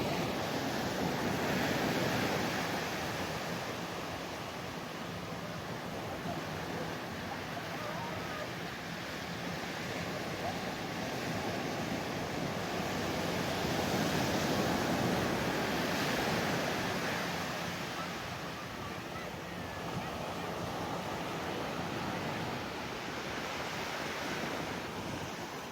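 Ocean waves wash onto an Arabian Sea beach in a steady, broad rushing roar that rises and falls gently over time. No voices are heard.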